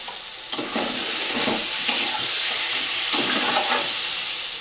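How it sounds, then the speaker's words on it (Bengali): Paneer cubes fry with spice masala in a pan, a loud steady sizzle near at hand broken by a few sharp stirring scrapes. "পনিরটা মশলাটা দিয়ে ভালো করে একটু কষিয়ে নেব"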